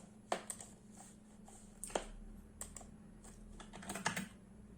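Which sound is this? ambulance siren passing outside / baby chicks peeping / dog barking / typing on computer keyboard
typing on computer keyboard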